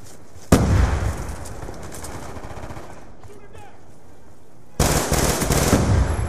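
Two heavy Black Ops 2 grenade blasts, one near the start and one near the end, each a sudden loud broadband boom trailing into rumble, with gunfire and battle noise filling the quieter stretch between.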